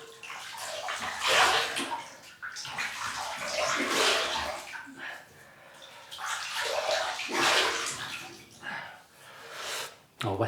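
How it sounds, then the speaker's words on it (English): Water splashes in cupped hands as a face is wetted before shaving, several close bursts of splashing and dripping separated by short pauses, with breathing between them. "so we'll just wet the face"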